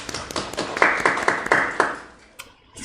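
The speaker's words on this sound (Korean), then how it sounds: "하나님께 영광 박수 올리겠습니다." A small church group claps in rhythm to give glory to God, roughly eight distinct, evenly spaced claps that fade out, followed by a couple of scattered claps.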